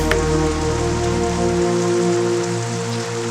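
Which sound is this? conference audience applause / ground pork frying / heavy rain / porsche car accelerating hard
heavy rain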